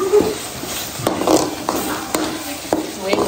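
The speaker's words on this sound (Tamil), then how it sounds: "எண்ணெய் மேலே பிரிஞ்சு வர வரைக்கும் நல்லா வதக்கணுமா?" Onions and tomato sauté in oil, a close sizzle punctuated by several evenly spaced spoon scrapes against the pan, with faint voices talking underneath.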